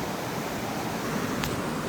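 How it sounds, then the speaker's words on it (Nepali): Water rushing steadily at Dhage Chhahara waterfall in Kalimati, a constant close broadband roar with no pauses or voices. "धागे छहरा झरनाको पानी यस्तो छ हेर्नु।"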